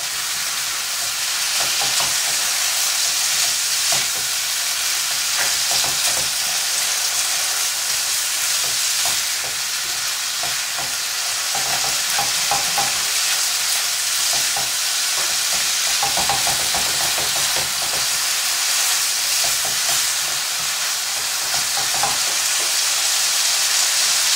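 Paella ingredients sizzle steadily in a hot pan as they are stirred, with loud continuous frying hiss and occasional scraping of the spoon.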